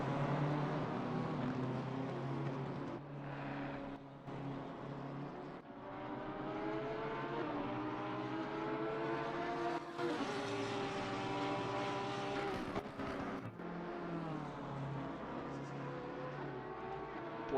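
A Porsche race car in a sim racing endurance event at Laguna Seca, its engine droning steadily with rising and falling pitch through gear changes and corner exits, heard continuously throughout.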